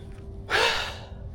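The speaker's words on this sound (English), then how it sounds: "I'm breathing hard because I ended up going as fast as I can up a hill just now" A single heavy, breathy exhale from a cyclist winded after sprinting up a hill, close to the mic, rising abruptly and trailing off over about a second amid light background noise.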